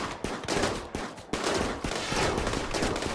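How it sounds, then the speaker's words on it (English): Rapid gunfire from a charge rifle aimed at a gas zombie in the colony game RimWorld, dense bursts of overlapping shots that keep going without a pause. "I'm just gonna have Stormguard shoot at the gas zombie"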